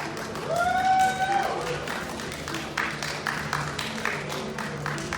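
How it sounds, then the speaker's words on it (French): Moderate applause from an audience after a martial arts demonstration at a manga convention, a soft, steady patter of clapping that fades gradually, with a brief tonal whistle-like sound near the start. "Vous pouvez les applaudir."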